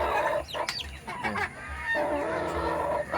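Hybrid heritage chickens cluck and squawk close by in a short burst of overlapping calls, some honking notes among them, over a low background hum.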